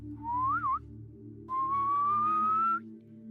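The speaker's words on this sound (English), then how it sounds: "Heidi heard a whistle." A whistle sound effect in a children's story: two clear, rising whistled notes, the first short with a wavering end and the second longer, over a quiet musical background.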